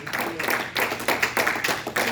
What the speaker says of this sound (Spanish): Dale un fuerte aplauso a tu Dios, iglesia.